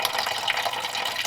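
Water pouring and splashing out of a rusted flathead engine block in a 1939 Mercury coupe, a continuous close gushing trickle with no talk over it.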